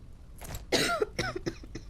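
A short series of harsh video game coughs, one strong burst followed by several smaller hacking coughs, close and fairly loud.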